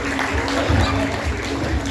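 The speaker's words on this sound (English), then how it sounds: "Let's give her a round of applause." A small crowd at a shop launch event claps for the first-prize quiz winner, a dense burst of applause mixed with chatter and a raised voice.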